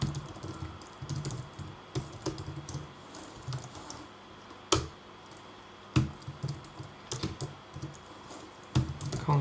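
Code is typed on a computer keyboard in quick bursts of close, crisp key clicks, with short pauses and a few louder spacebar or enter strikes.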